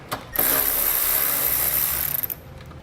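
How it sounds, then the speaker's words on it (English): A ratchet with a 10mm socket loosens an underhood bolt on a 2006 Honda CR-V, giving a loud, close, steady clicking run for about two seconds that ends in a few separate clicks. "we'll remove this bolt using a 10mm socket"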